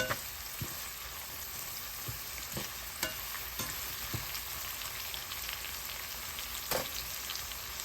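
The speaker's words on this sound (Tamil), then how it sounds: "இப்போ வெங்காயம் வதங்கட்டும்" Onions sautéing in a pan for a curry, producing a steady crackling sizzle with several sharp utensil knocks and scrapes against the pan, close and unbroken, with no one talking.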